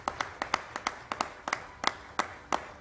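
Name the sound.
audience applause at an awards event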